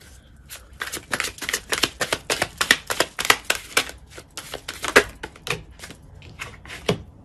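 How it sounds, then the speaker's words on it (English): A deck of tarot cards is shuffled and cards are drawn. Quick, crisp riffles and slaps come through close and clear, with a few scattered flicks and taps near the end. "I'm just going to get a few more cards."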